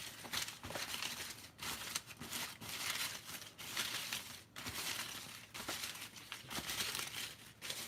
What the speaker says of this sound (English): I'm going to shuffle everything up.